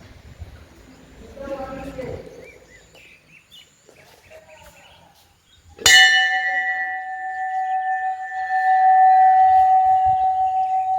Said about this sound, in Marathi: छान सुंदर अशी मोठी घंटा इथे बसवण्यात आली आहे